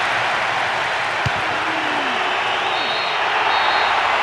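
A stadium crowd in a PES2008 football match reacts to a disallowed goal, a broad continuous roar with whistles, audible throughout at a steady high level.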